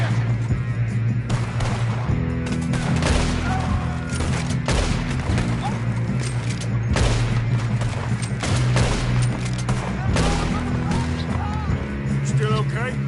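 Rapid, dense volleys of gunfire crackle through a Red Dead Redemption 2 story-mode shootout, with heavy low rumble and loud repeated shots across the whole stretch while voices talk over the action.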